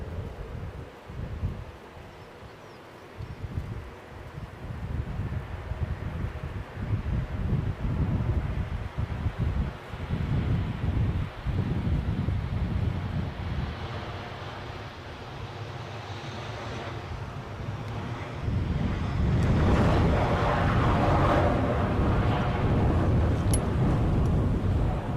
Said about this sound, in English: let's get this British Airways Embraer 190 in from Barcelona